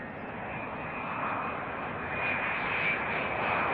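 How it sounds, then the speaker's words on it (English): A Boeing 787 Dreamliner arriving at Auckland Airport from Tokyo Narita gives a steady, distant jet roar that swells slightly as it approaches on landing, no talk. "as quick as that Dreamliner goes out, this Dreamliner's coming in."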